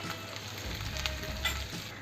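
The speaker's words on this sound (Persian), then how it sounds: "اندازه 2 دقیقه دیگه هم با زرشک تفتشون میدم." Barberries sautéing in a frying pan for an Iranian chicken and eggplant tahchin, giving a soft, steady sizzle with faint crackles and a low rumble, fairly quiet and without voices.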